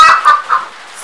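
A Friso bantam chicken at a farm of ornamental birds gives a few short, close, fairly loud clucks in quick succession, then falls quiet.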